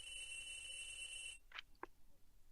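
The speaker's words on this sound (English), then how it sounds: "Oh, phone's ringing." A telephone rings in the game Apollo Justice: Ace Attorney, a steady electronic trill that cuts off abruptly, followed by a couple of short chime-like blips.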